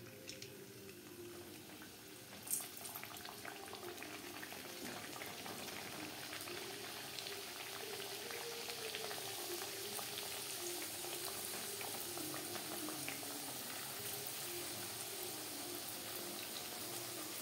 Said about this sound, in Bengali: পাপড়ি ভাজবো মিডিয়াম টু লো ফ্লেমে